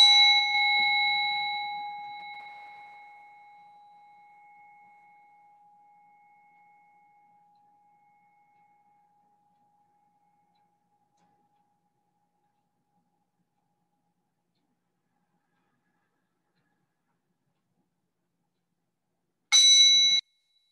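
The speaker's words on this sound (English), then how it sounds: "The sound of the bell" A single bell strike during a restorative yoga session rings out clearly and decays slowly over several seconds into near silence, followed by a second brief strike at the very end.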